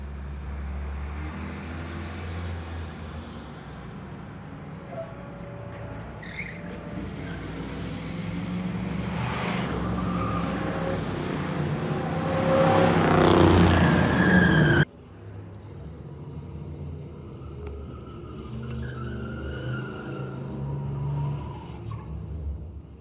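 Film footage of a car chase with many vintage cars: engines roar and rise in intensity, tyres skid and a siren wails, building to a loud peak before cutting to a quieter stretch of traffic noise.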